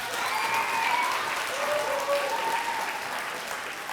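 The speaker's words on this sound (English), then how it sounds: "Let's give them a round of applause." A school crowd at a Blue Ribbon celebration breaks into sustained applause for staff and faculty, a dense wash of clapping with faint voices mixed in, steady and fairly loud for the whole stretch.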